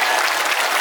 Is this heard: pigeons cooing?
no